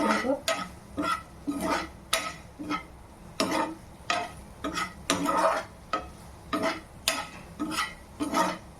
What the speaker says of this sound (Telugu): కలపండి పసుపు వేసిన తర్వాత